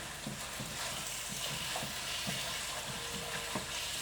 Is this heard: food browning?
yes